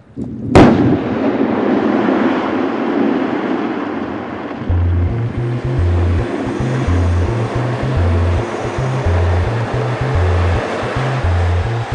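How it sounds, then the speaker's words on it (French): A mine blast on motorway earthworks near a tunnel portal goes off with one sharp, loud crack and then a long rumbling roar of debris and dust that settles into a steady low hum, with a pulsing tone added later. "Les tirs de mine sont journaliers."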